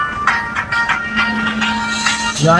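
A train runs past near the Arnej Butbhavani Mata temple, giving a steady loud rumble with rhythmic wheel clatter and a sustained tonal hum, plus a rising squeal near the end.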